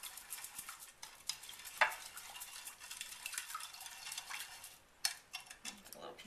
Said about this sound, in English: now I'm going to just whisk this all up